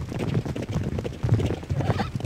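Racehorses gallop on a turf track in the Derby Owners Club arcade game, a rapid, irregular drumming of hooves that is close and fairly loud.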